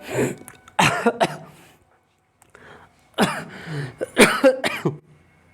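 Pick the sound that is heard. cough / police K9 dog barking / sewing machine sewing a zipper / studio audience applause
cough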